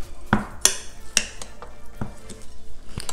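Metal spoon stirring a seasoned ground beef stuffing in a bowl for stuffed peppers, with a few sharp clinks and scrapes against the bowl spaced irregularly over a few seconds, close and clear.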